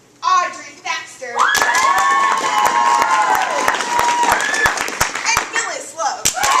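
A theater audience at a live murder-mystery show claps and cheers loudly for several seconds, with voices shouting over the sustained applause and a few sharp individual claps standing out.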